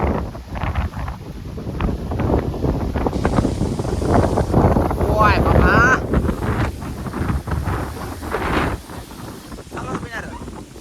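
Strong wind drives heavy rain in Dayal, a coastal village, roaring and buffeting loudly against the microphone throughout. Someone speaks briefly over the storm.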